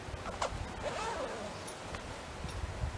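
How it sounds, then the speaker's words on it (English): A bag of pop-up portal accessories gets zipped shut, giving a few quick, quiet zipper rasps close by, with short pauses between pulls against faint room background. "And zip the bag up, and it's ready to be returned."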